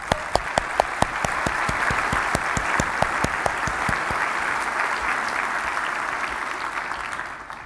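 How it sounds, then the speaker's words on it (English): Large conference audience applauding at a healthcare quality plenary, dense sustained clapping from a big hall crowd that holds steady for several seconds and then slowly fades, with a few sharper claps standing out near the start. "This all deserves a round of applause."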